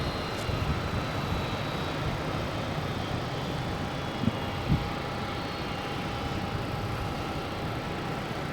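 A Delta Airbus A321 airliner at Boston Logan International Airport makes a steady, broad jet roar. The sound stays loud and continuous throughout, with a couple of brief faint thumps partway through.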